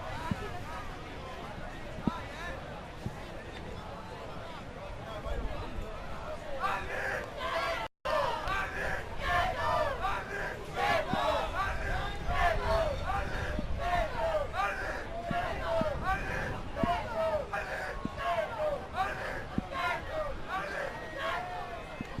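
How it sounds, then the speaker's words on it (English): Spectators in the stands cheer and clap continuously at the Paganello Junior 2014 ultimate frisbee final in Costa Rica, a dense, steady roar of crowd noise with scattered shouts, broken only by one brief gap. "The Costa Rica crowd on the stands cheers on 45 Giri."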